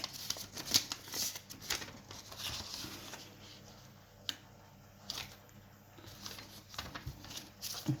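Packaging of a Japanese 8 cm CD single being opened, with soft crinkling, rustling and small plastic clicks and snaps close to the microphone, faint and irregular throughout.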